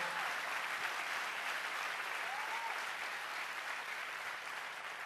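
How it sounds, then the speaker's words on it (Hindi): A worship congregation gives a long, even round of applause, a thick continuous wash of clapping that holds steady throughout. "Can we give Jesus a wonderful क्या hand? हम यीशु मसीह के लिए तालियां नहीं बजा सकते?"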